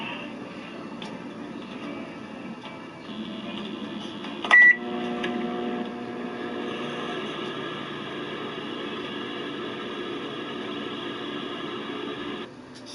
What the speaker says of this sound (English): at the microwave oven, at full blast